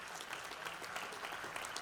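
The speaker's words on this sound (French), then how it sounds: "on peut les applaudir" A ceremony audience at a Tunisian hackathon awards event gives soft, dense applause to the third-place team, a brief, even patter of many hands heard from a distance.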